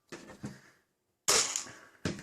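A Kong Lie T-21 toy spring blaster pistol with a weak, rattling spring fires in close, crisp snaps. Two softer shots come first, then a pause, then two sharper reports roughly three-quarters of a second apart, with no voices.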